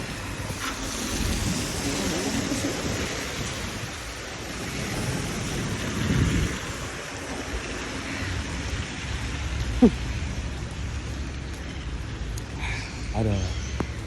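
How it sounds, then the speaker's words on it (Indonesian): Steady rain falls in Blenheim with a constant broadband hiss and patter across the whole stretch, and a low rumble of traffic or wind sits underneath. "Masih hujan dan tentunya awet"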